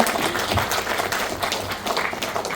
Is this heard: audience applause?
yes